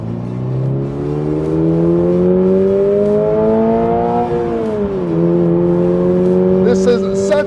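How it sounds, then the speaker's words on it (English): Toyota GR sports car engine heard from inside the cabin, a loud steady drone climbing in pitch as it revs up, dipping briefly on a shift, then pulling again, continuous throughout. "You can hear that engine really"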